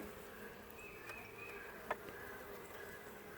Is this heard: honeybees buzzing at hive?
yes